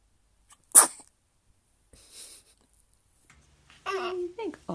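A baby sneezes once, sharp and close, followed by a soft breath and then a burst of babbling baby voice sounds.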